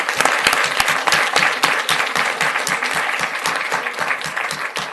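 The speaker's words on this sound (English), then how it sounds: "Let's give them a round of applause, please." A round of applause for a middle school color guard at a Fort Worth meeting: steady crowd clapping with distinct nearby hand claps popping out in an uneven rhythm, fairly loud and sustained.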